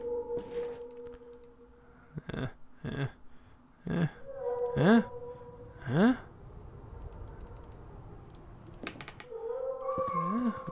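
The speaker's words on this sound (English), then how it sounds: "I know it's meowing louder here." A cat meows in The Last Door, a point-and-click horror game, with a couple of wavering, drawn-out cries rising and falling near the middle, set among sharp mouse clicks and soft ambient tones.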